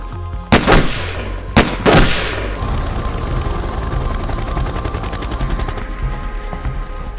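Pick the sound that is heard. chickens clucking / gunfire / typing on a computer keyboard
gunfire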